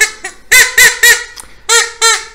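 A fox caller made to mimic fowl such as ducks and quails, sounding a series of about six loud, nasal honking calls close up, in uneven bursts with short gaps.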